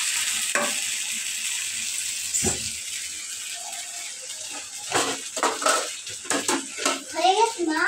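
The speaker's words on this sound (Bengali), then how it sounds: "এবারে আমার নুডলস রান্না করা শেষ।" Noodles fry in a pan with a steady, bright sizzling hiss throughout. Short clinks and stirring sounds join in, and voices, including a child's, talk over it near the end.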